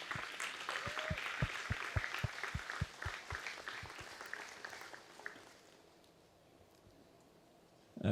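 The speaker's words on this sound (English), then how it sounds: "let us give you a round of applause and celebrate your certification as well." An audience at a ceremony recognizing century farms gives a round of applause, a mix of steady clapping with a few distinct sharp claps, which dies away to a quiet room after about five seconds.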